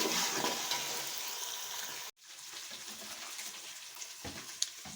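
Onions frying in a pot for jollof rice, a steady sizzle with scraping stirs, briefly cutting out then returning softer with occasional clinks of the spoon.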